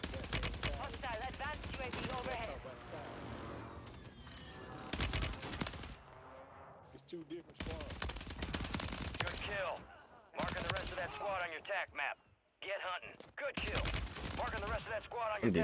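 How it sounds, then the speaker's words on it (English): Rapid automatic gunfire bursts in Warzone 3, loud sharp volleys repeating in clusters with short gaps, mixed with a voice talking over the shooting. "I'm just shooting right now"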